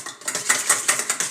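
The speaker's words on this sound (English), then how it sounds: "Just beat that up. Again, this is a large size egg." A large egg is beaten in a bowl with a utensil, making quick, regular clinking taps against the side of the bowl, close and fairly faint.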